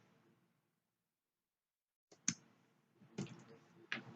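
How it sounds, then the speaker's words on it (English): Mouse clicks on an OK button: a few crisp, close clicks, one sharp tap followed by two more about a second apart, in an otherwise quiet room. "Click on OK."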